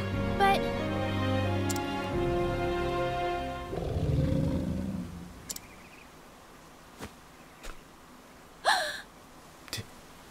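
Wolf roar from the video game Octopath Traveler: a loud, sustained growling roar that fades into quieter scattered clicks and brief bursts from the game, with no speech.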